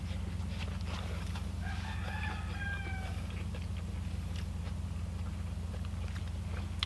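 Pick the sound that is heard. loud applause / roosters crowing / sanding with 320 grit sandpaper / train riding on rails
roosters crowing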